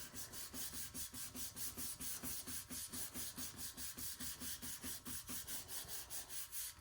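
Pieces of polymer clay pressed and rubbed together on wax paper, making a steady rhythmic scraping-rub, about three strokes per second, close and fairly quiet, with no talk.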